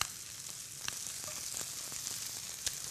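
Sliced mushrooms fry in oil in a pan with a soft, steady sizzle broken by a few sharp crackles and pops, quiet and continuous.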